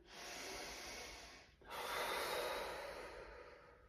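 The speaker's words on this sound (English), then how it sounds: "3 breaths through your nose." Two long, audible nasal breaths during a fascial movement routine, a steady airy inhale-exhale rush split by a brief pause, close to the microphone with no talking.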